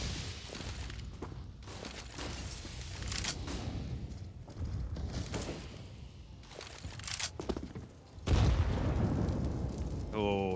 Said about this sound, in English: Oh, huge nade.